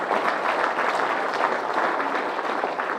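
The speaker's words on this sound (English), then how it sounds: "So final round of applause to Selena and Shay." An audience at a junior netball presentation night applauds steadily, a dense, even wash of clapping from many hands that holds at full strength throughout.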